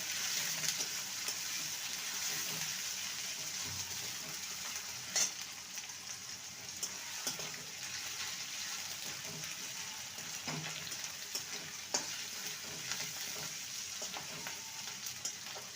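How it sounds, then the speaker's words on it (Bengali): Chopped tomato, garlic, ginger and green chillies fry in a pan, a continuous close sizzle with intermittent stirring scrapes and taps throughout. "টমেটো রসুন আদা আর কাঁচা লঙ্কাকে ভালো করে কষিয়ে নিয়েছি"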